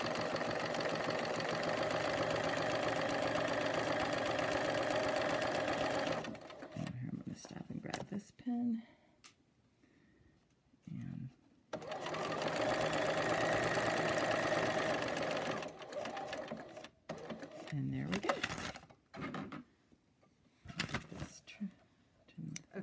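A sewing machine stitches a quilt block seam at a very short stitch length, running in two long steady bursts separated by pauses with a quiet voice talking and small handling sounds.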